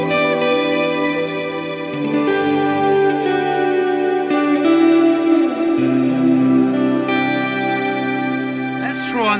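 Sustained electric guitar chords heavily processed by an Electro-Harmonix POG2 pedal, with shimmering octave layers and reverb, loud and steady with a few chord changes.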